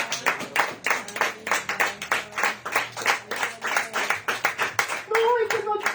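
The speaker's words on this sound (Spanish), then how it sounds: "Denle aplausos al Señor." A church congregation claps in quick, steady rhythmic bursts during a Spanish-language sermon. The clapping is loud and close, with voices mixed in and a brief sung or sustained tone near the end.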